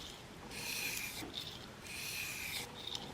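Blade bevel being stroked against a wooden dowel loaded with 1200 grit abrasive, giving two soft, airy rubbing passes, each about a second long, with a short pause between them, close and fairly quiet, with no talk.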